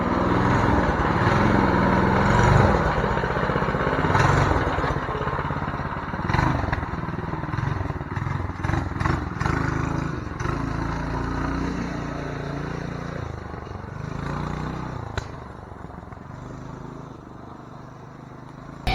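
Small homemade wheelie trike engine running steadily for the whole stretch, a rough buzzing drone with uneven revs and occasional clatter, close and loud.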